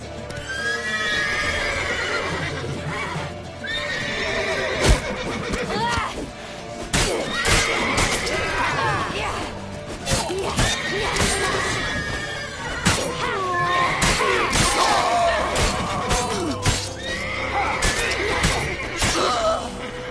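Horses in The Witcher 3 neigh and whinny loudly and repeatedly over clattering hooves, with crashes and shouts of a chaotic game scene mixed in.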